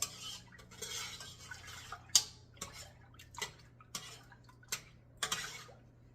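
Salt being stirred into whole milk in a metal pot while making ricotta: a string of sharp spoon clinks and scrapes against the pot at an uneven rhythm, close and moderately loud over a steady low hum.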